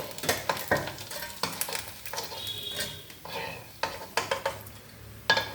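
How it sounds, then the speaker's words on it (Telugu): Sour mango vadiyalu, sun-dried lentil fritters, sizzle in very hot oil, with repeated stirring scrapes and clinks of a utensil against the pan in irregular bursts, close and moderately loud. "మనం వడియాలు వేసుకున్నాం అనుకోండి, చక్కగా పువ్వుల్లాగా వేగిపోతాయి"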